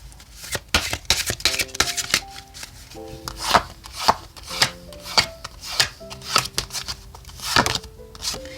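Oracle cards being shuffled by hand in a series of rapid riffling, slapping bursts, close and crisp, with soft background music underneath and no talking.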